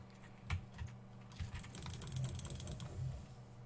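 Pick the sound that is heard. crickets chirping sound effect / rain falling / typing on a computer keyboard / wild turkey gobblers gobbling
typing on a computer keyboard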